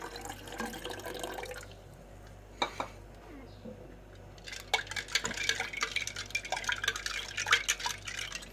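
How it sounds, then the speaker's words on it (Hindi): Water being poured into fennel sharbat, a nearby splashing stream heard in two bursts, the second longer and louder, with a brief clink between them and no talking. "अब हम इसमें थोड़ा सा पानी शामिल करेंगे"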